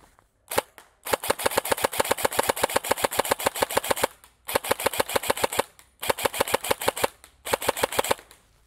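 Loud, close shots from a Rossi Neptune 10" Plus airsoft rifle fired semi-automatic in rapid strings of sharp cracks, broken by brief pauses between groups.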